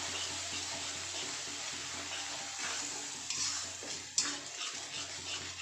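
Potato and pointed gourd curry being stirred in a pan over low gas, a steady soft sizzle with scraping spoon strokes and a few louder clinks of utensil against the pan near the end, no talking.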